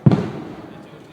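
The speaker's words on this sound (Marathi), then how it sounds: "ए फटाके नका रे वाजवता" A single sharp firecracker bang, loud and close, at a public building inauguration ceremony, followed by a quick decaying rumble and echo.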